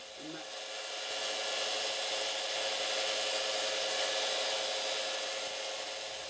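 A metal file rasps along the corners of an Allen key during a Yamaha XJ600 Diversion clutch rattle fix, a steady close scraping rub that holds without a break.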